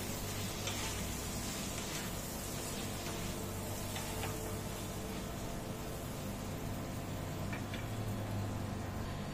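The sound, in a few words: cauliflower frying with turmeric and salt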